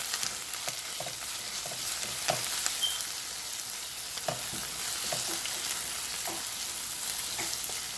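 Green chili pepper sauce sizzles over medium heat in a pan while a spoon stirs it, giving a steady close frying crackle with soft scraping strokes recurring every second or so.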